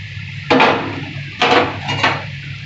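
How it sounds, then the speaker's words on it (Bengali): A lid placed on a cooking pan of spiced water for a koi fish dish, two or three close metallic clanks and rattles over a low steady bubbling hum, no talking. "এবার আমি ঢাকা দিয়ে দিচ্ছি।"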